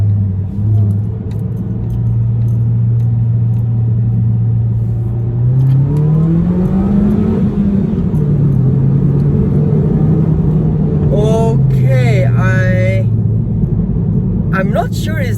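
A Proton Inspira fitted with a drop-in air filter pulls hard in first gear on a highway, its engine droning steadily and then rising in pitch as it revs, with someone talking over it near the end.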